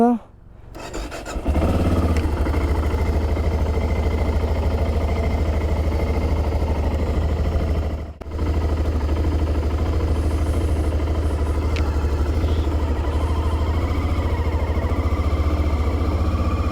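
A motorcycle with a loose throttle cable idles steadily with a low, even engine drone, close by and continuous after a brief rustle at the start.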